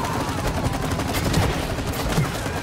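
Rapid gunfire from a weapon shooting at a chain in the video game It Takes Two, a dense continuous burst of shots over busy game sound lasting a few seconds.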